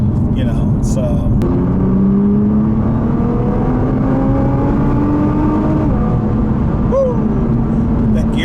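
A 2017 Nissan GT-R R35 engine pulls hard under acceleration, its rising whine cut by a quick gear shift before climbing again, all heard from inside the car beneath steady conversation.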